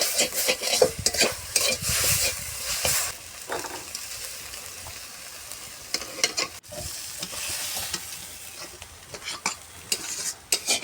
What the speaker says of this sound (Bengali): আদা কুচিটাকেও ভালোভাবে নেড়ে নিতে হবে যাতে এটার সাথে খুব ভালোভাবে লেগে যায়